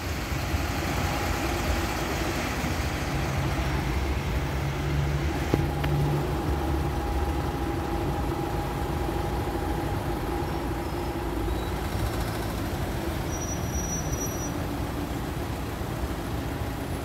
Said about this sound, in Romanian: Aici e criminal traficul.